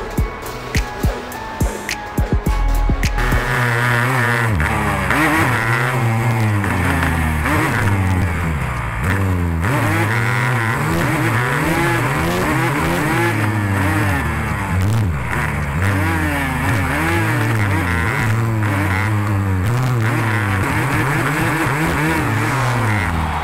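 A 500cc two-stroke motorcycle races around a Straight Rhythm track, its engine loud and close, repeatedly revving up and down through shifting pitches with a sharp, buzzy tone throughout.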